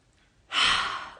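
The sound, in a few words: deep breath in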